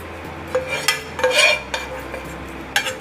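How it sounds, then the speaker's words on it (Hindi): A dhaba-style garlic tadka is poured and spread over lehsuni palak in a metal pan, with sharp clinks and scrapes of a spoon against the pan, sporadic and close. "अब जो लहसुनी पालक हमने बनाया है ना उस पर स्पेशल तड़का हम ऐड करेंगे।"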